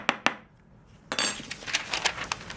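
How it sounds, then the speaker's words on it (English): A spoon clinks and scrapes against a container while breaking up clumps of herb granules, with two sharp early taps followed by a run of lighter, rapid clicks and scraping, close and fairly quiet. "Sometimes you get clumps in here, like this. So just break them down with a spoon."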